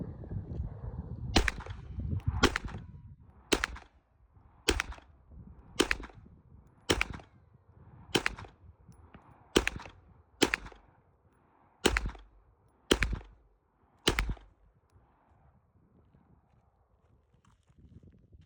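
A Glock pistol fires about a dozen sharp shots at an outdoor range, evenly spaced roughly a second apart, each crack loud and distinct against quiet background.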